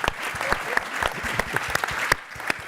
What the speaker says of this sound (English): I'm hoping you give the panel a round of applause